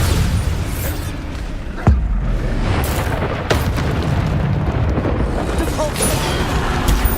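Bombarda spell explosions in Hogwarts Legacy, two sharp booms over a dense, loud game soundscape with constant combat noise and a voice calling out.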